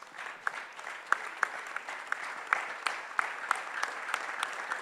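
Sparse, scattered clapping from a small conference-session audience honoring the women present, with individual sharp claps standing out over a faint background at low volume.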